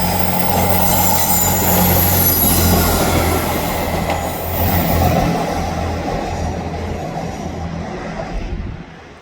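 A fast Northern train runs through Manors station without stopping, a loud rumbling passage with squealing wheels and rail clatter that gradually fades as it moves off.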